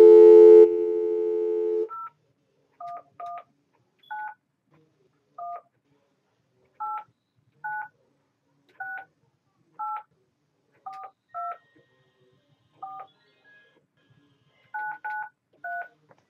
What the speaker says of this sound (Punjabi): ਮੈਂ ਇਧਰੋਂ ਫੋਨ ਡਾਇਲ ਕਰ ਦਿੰਦਾ